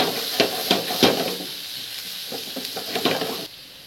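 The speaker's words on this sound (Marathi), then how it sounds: "थोडासा गोल्डन ब्राऊन रंग येईपर्यंत त्याला फ्राय करायचं आहे." A finely chopped ingredient fries in oil until golden brown, giving a loud close sizzle with sharp clattering stirs in the first second, then steadier hissing and more stirring before it quiets.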